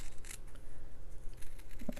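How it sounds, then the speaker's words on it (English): Scissors cutting paper for a slow-stitch card craft: a brief, close snip and rustle of paper, faint and alone with no talk. "you're also going to be cutting paper, so you don't want to use your really good scissors"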